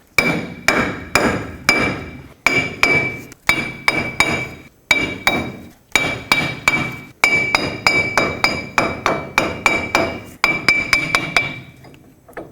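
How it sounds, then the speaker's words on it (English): A hammer strikes a wheel bearing on a 1997-2003 Ford F-150 to knock it loose from the steering knuckle, loud ringing metallic blows in quick irregular bursts, sometimes several in rapid succession, with no voices. "all you have to do is hammer the wheel bearing back and forth till it breaks free from the knuckle"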